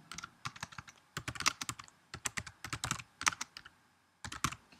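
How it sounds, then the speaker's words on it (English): Typing on a computer keyboard in clustered bursts of quick, crisp keystrokes with short pauses between them, close and quiet, with no talk. "I'm just going to type in a tag word called sample."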